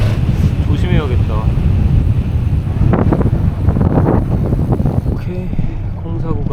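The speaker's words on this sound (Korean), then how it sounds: "우와, 바람." Strong winter wind buffets a microphone during a solo bicycle ride along the Oregon Pacific coast, roaring steadily throughout while someone speaks briefly over it.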